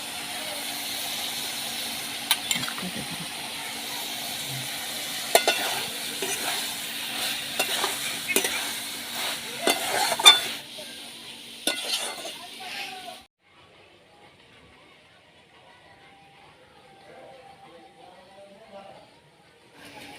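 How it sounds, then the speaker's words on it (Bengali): Prawns sizzle and crackle with snake gourd in a pan, Bengali style, with loud frying and scraping stirs under a spoken voice for about thirteen seconds before the sound drops to a faint, quiet hiss. "তো এবার চিংড়ি মাছগুলো দিয়ে দিচ্ছি।"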